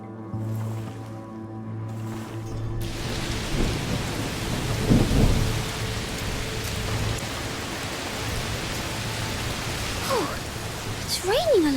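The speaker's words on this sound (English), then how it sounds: "It's raining a lot. Yes, must be a heat storm." Heavy rain pours steadily while low thunder rumbles, with a brief tonal hum at the start and a few high whistling sounds near the end.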